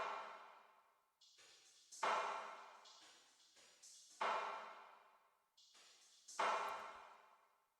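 Percussion hits and rim shots sent through a Perfect Room drum reverb, six or so sharp strikes spaced about a second apart, each trailing off into a long, bright reverb tail, with no talk.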